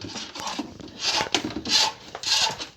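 A spiral drain-cleaning wire is fed into a clogged sink drain, giving repeated close scraping, rasping bursts in an uneven rhythm, about four or five strokes, with no talking.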